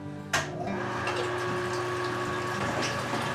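An electric pump moving hot water at about 180 degrees into a mash tun while brewing a honey brown ale, a steady humming drone with rushing water, starting with a sharp click and running continuously.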